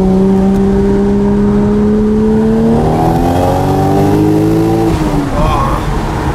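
A Toyota Mark 2 drift car's engine revs loud and close, its pitch climbing steadily and then settling into a high sustained drone, with a voice speaking over it.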